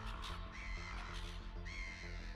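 Harsh caws of wild ravens, several rough calls that overlap and repeat, set over a steady low rumbling background with no voices.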